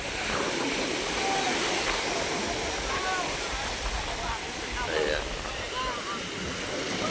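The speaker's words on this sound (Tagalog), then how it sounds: "Napakalaki ng ating alon ngayon" Steady roar of large sea waves and rushing water at a seafood landing, loud and continuous, with faint voices mixed in.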